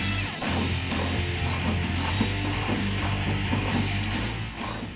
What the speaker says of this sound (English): Now you can tighten up the leaf spring mount.